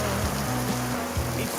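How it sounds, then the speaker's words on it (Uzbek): Rain falls steadily as a constant broadband hiss, with low sustained tones running underneath throughout. "Yomg'ir yog'yapti."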